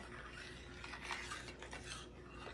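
Crushed pineapple with its juice is stirred into a blueberry salad, giving soft wet scraping and rubbing strokes of a spoon against a bowl, quiet and close with no voices.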